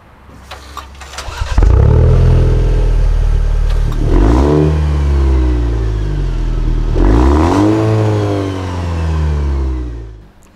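A Maserati Ghibli Hybrid with a four-cylinder engine starts up and revs hard, rising and falling in two big sweeping revs with a steady idle between, loud and close with no talking.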